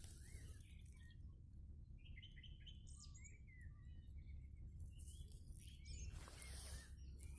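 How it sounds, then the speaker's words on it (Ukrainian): Several birds sing and chirp in the distance, with varied twittering calls over a soft, steady outdoor hum. "А вам чуть, як пташки співають?"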